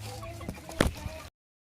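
A backyard chicken gives a few short clucks over faint ambient noise, one louder call standing out in the middle before the sound cuts off abruptly.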